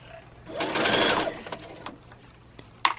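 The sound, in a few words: sewing machine stitching fabric dust cover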